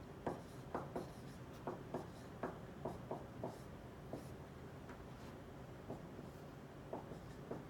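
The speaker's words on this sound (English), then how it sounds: "So now let's write our answer." Marker strokes on a whiteboard while writing out the answer to a synthetic division polynomial problem: a string of short, close squeaky scratches in uneven bursts, with no talk over them.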